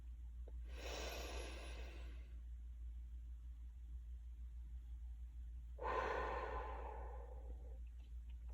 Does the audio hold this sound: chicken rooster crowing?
no